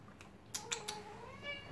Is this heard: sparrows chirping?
no